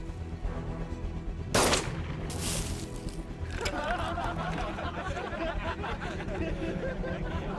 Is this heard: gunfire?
yes